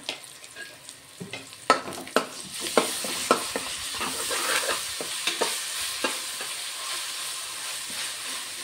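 Ginger-garlic paste is stirred into a frying pot for bagara rice, a string of close metallic clinks and scrapes of the spoon against the pot over a rising, steady sizzle.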